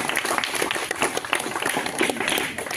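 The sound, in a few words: children clapping, applause for clay Ganpati model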